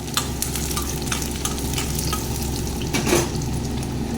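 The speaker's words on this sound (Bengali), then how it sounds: "বন্ধুরা পেঁয়াজটা ভাজা হয়ে গেছে" Onion frying in a pan and being stirred, a steady close sizzle with scraping strokes of a spatula throughout.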